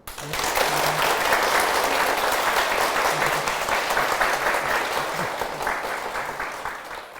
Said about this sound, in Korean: 우리 큰 박수를 부탁드립니다